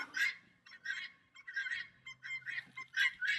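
Guinea fowl call in a run of harsh, rhythmic two-part cries, about a dozen bursts in quick succession, moderately close on a quiet country evening.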